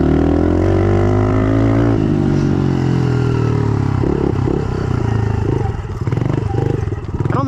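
A 2020 Honda CRF110 dirt bike fitted with a Fox Float MXR shock and BBR springs and damping rods runs a steady, close engine drone at moderate pace around a dirt track, with pitch rising and dipping as the throttle shifts.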